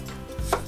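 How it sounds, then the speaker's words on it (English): A knife slices an apple into thin pieces for a cinnamon apple cake, one brief crisp cut against a board, close and fairly quiet, with no one talking. "we cut the thin slices"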